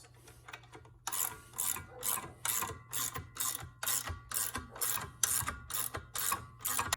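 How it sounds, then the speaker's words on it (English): A nut is ratcheted down a threaded rod to compress the spring of a Polaris Team secondary clutch, a dozen evenly spaced rasping ratchet strokes, close and distinct, with no talking. "I'm gonna tighten the nut"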